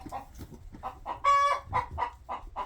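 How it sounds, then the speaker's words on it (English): Loose farm chickens cluck in a steady run of short, close calls, with one louder, drawn-out squawk in the middle, no voices. "we have escapee chickens on a somewhat regular basis"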